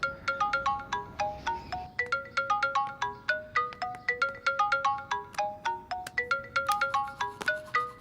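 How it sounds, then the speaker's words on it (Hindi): A telephone ringtone plays alone in a repeating melodic pattern of bright electronic tones, steady and fairly loud, before an expected call from America is answered. "हाँ, अमेरिका से फोन है"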